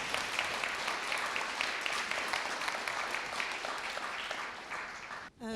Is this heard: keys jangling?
no